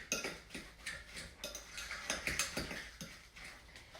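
A spoon scrapes and clinks against a bowl while seasoned potatoes and chopped onion are mixed together, soft repeated stirring sounds close by with no speech.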